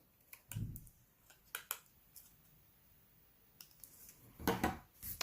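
Paper cutouts for a papercraft kit project being trimmed with scissors, a few scattered snips and paper rustles heard up close in a quiet room, with gaps between the cuts.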